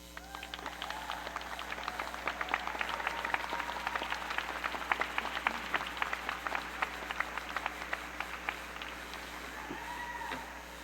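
Graduates at a Quinnipiac University health sciences and nursing commencement stand and applaud the audience, producing broad, sustained clapping from a large crowd that stays fairly even and somewhat distant for about ten seconds, then tapers slightly at the end.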